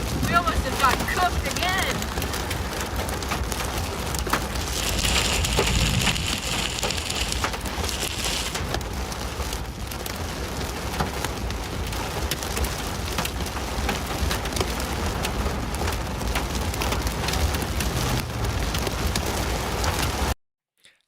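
Hail pounding down in a storm near Memphis, golf-ball-sized stones drumming steadily and loudly on surfaces like heavy rain for about twenty seconds, with a person talking over the din at times.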